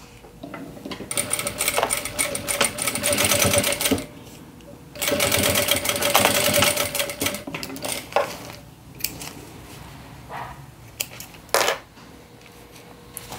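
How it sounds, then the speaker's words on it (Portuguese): Sewing machine stitching two layers of synthetic fabric together, running in two loud sustained bursts with short pauses, then lighter handling clatter and a brief final whir. "Vou passar uma costurinha só pra prender."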